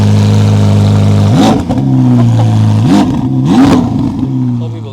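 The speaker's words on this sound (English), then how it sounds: "This is the startup of the 488 Pista." A Ferrari 488 Pista supercar engine runs loud and close with a deep steady rumble, then revs sharply three times, each rise followed by a falling crackle, while someone talks over it.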